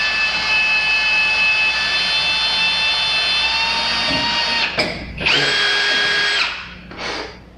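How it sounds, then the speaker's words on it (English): A power drill with a step bit whines steadily at high pitch, then cuts out and restarts in a few short bursts as it bores through material, close up. "The best thing to drill this out with would be a step bit."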